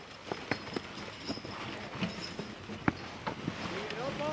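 Working logging horses walking on a woodland trail, hooves clip-clopping in an uneven, steady gait at moderate distance, with faint background noise.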